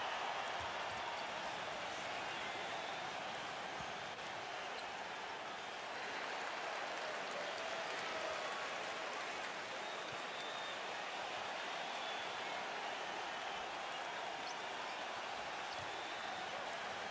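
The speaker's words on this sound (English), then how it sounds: "And the crowd roaring to life." Arena crowd roaring without pause after a big jump shot at a FIBA Asia Cup basketball game between the Philippines and China, a dense, loud wash of cheering that holds steady for the whole stretch.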